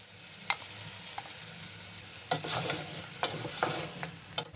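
Beef pieces frying with garlic and ginger paste in a pot: a quiet, steady sizzle punctuated by sharp clacks and scrapes of a spoon stirring, growing busier midway, with no speech.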